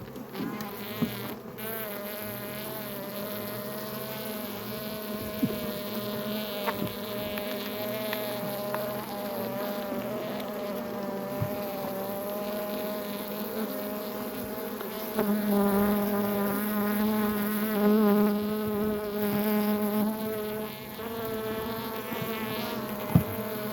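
Honeybees at an apiary drone in a dense, continuous buzz close by, holding steady throughout with slight swells in intensity.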